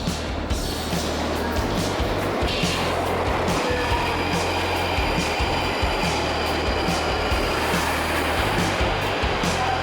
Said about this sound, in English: The Northern Line train